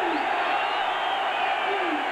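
Stadium crowd at a 1985 Tennessee vs UCLA college football game, a steady loud roar of many voices filling the whole stretch, with faint whoops rising out of it.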